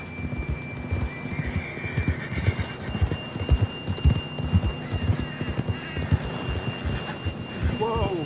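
Horse hooves clop in a steady galloping rhythm in the Red Dead Redemption 2 video game, near and continuous, with a neigh toward the end and voices speaking over the hoofbeats.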